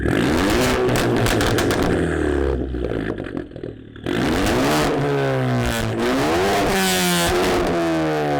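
A Ford Focus ST running a straight-piped exhaust revs hard and repeatedly, very loud and close. The engine rises and falls in sharp bursts, with a brief drop in the middle.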